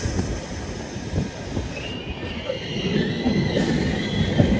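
A train runs toward Miraj station with a moderate, continuous rattle and rumble on the rails, broken by a brief higher wheel whine near the middle.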